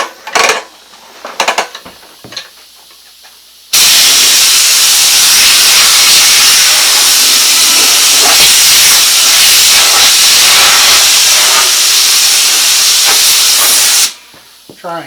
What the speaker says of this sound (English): blow this off real quick